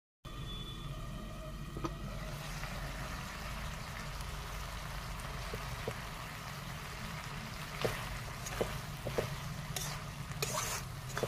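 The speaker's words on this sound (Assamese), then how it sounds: "এতিয়া মই ঢাকন মাৰি উতলিবলৈ দিম।" Fish head curry simmers in a covered pot, a steady low bubbling and hiss holding throughout with a few faint clinks and taps near the end.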